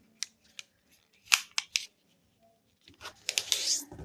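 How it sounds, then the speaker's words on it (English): Scissors snipping through a thin, fragile sheet of vellum: several sharp, close cuts spaced apart, then a denser run of crisp rustling snips near the end, with no talk. "I'm just going to cut off the remaining piece of a vellum that I had used"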